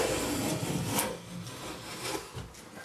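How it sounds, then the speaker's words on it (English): A hand plane rasps over an ash board with grain reversal, taking rough shavings in a few close, breathy strokes. No voices are heard. "I'm not taking a super thin shaving off it, but it's getting roughed out for now"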